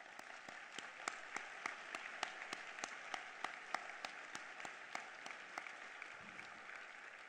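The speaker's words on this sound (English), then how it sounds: "we will recognize them with a round of applause" An audience at a leadership luncheon applauds the standing board members, a full, continuous round of clapping from a large crowd, with a few sharp individual claps standing out from the steady roar.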